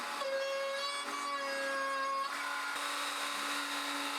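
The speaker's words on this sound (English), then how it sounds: "let's attack the top with a router." A handheld router with a 3/4 inch roundover bit shapes the edge of a wooden shoe bench top, giving a steady high-pitched whine with a slight shift in tone midway, fairly quiet and with no voices.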